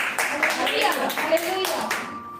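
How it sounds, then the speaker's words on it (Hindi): A church congregation claps loudly together in thanks during an evangelist's Hindi sermon, a dense run of hand claps with voices mixed in, fading away at the end. "आइए हम परमेश्वर के लिए जोर से ताली बजाकर उसका धन्यवाद करेंगे"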